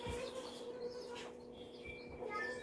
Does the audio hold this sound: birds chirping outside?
yes